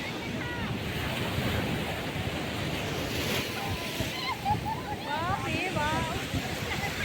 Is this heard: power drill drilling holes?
no